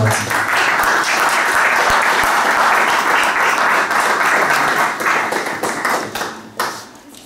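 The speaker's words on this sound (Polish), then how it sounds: "Wielkie brawa, Panie" Audience applause for an award winner at a regional ceremony, a dense sustained wash of many hands clapping loudly, thinning and tapering off near the end.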